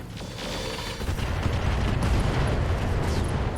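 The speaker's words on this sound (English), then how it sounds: "fire the rocket 20s, just kill it. All weapons go." Heavy rocket salvo and combined weapons fire from a battling mech in RogueTech, a loud sustained roar of rumbling explosions and mechanical booms that swells and stays dense throughout, with no talking.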